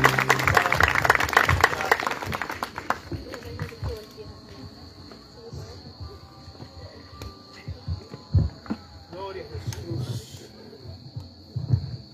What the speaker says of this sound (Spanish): Démosle una fuerte ofrenda de palmas al Señor.